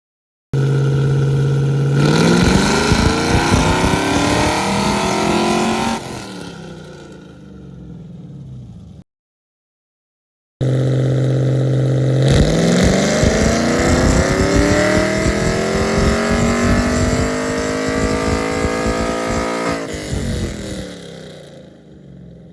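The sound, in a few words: cammed LS3 Camaro engine revving on dyno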